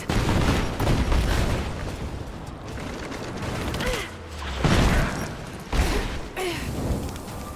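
Dense in-game gunfire and covering fire crackle through a loud, busy battle mix, with clustered shots and mechanical clatter rising in bursts and a few louder booms.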